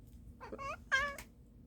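A house cat meows twice in quick succession, short and fairly close, in a quiet indoor room.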